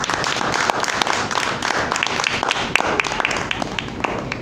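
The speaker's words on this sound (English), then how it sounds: "let's give her another round of applause" Applause from a Toastmasters club meeting audience in Metro Manila, loud and continuous, with some individual claps standing out sharply from the crowd, and faint voices mixed beneath.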